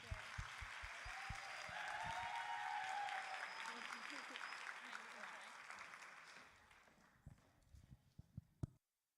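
An audience claps to welcome someone speaker onto the stage at a women's faith event. The sustained applause builds, then thins out into a few scattered, sharp claps before it stops.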